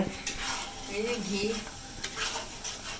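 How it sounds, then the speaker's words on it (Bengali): Homemade ghee made from milk cream sizzles steadily in a pan while a utensil stirs and scrapes against the metal in a few close, uneven strokes. "ঘি কেমনে বানাচ্ছ"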